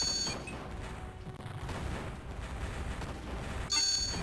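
Tank cannon fire and explosions rumble in the space strategy game Imperium Galactica, a dense low barrage at moderate level with a sharper burst near the end.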